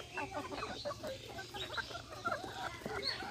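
Native farm chickens pecking at cabbage, several birds clucking softly and repeatedly at close range over a faint background hum, with no talking.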